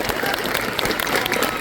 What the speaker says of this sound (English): please let's have a big round of applause